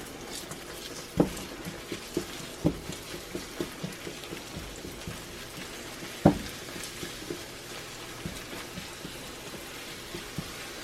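Eggs cooking in a pan for a low-carb steak, bacon and egg breakfast quesadilla, a soft continuous sizzle with a few sharp utensil clicks, quiet and close, no talk.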